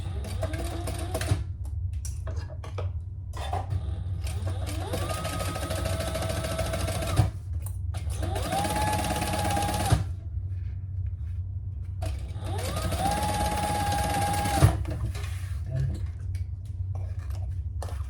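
A sewing machine runs a basting stitch along a raw edge for a Shambala Federica garment, in several steady whirring bursts separated by short pauses and clicks.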